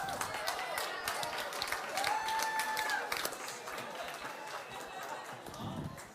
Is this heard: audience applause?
yes